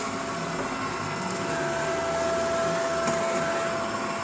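A Shark vacuum cleaner runs on carpet, humming steadily at close range, a constant whine with a thin high tone throughout, no voices.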